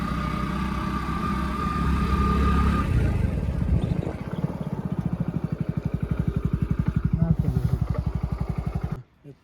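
A motorcycle engine runs close by on a road ride, its low throb settling into a fast, even pulsing rhythm, with people talking over it before it cuts off.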